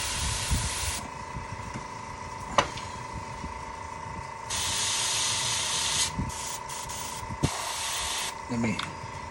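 A larger airbrush sprays primer in a steady broadband hiss, with a few longer bursts and pauses. Faint handling knocks and light background talk come and go.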